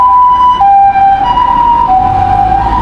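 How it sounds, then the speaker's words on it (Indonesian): A Japanese ambulance siren wails loud and close on a city street, its two-tone pitch alternating steadily over passing traffic noise. "Sepertinya ada yang sakit ya, itu ambulan Jepang seperti itu."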